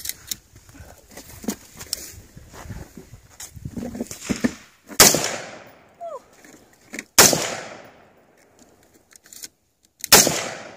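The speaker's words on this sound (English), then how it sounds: "What are you shooting at? Try to hit the target." AR-15 rifle fired at a target outdoors, several loud sharp cracks spaced a few seconds apart, each with a short ringing tail, with faint handling noises and movement between shots and no talk over them.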